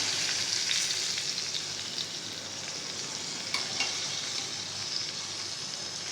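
Garlic chillies, cooked about ten minutes and then flipped, fry in a pan with a loud, even, continuous sizzle and one brief clink midway.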